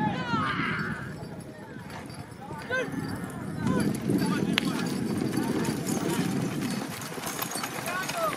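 Hooves from a horse and bullock cart race pound in a rapid, continuous clip-clop, mixed with crowd noise and a commentator talking loudly over the running animals.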